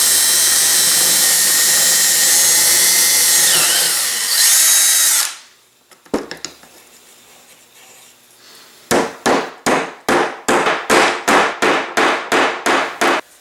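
A power drill bores holes in a wooden block for a model rocket's avionics bay, a loud steady whir for about five seconds, then a quiet pause before a series of about a dozen sharp, evenly spaced bursts.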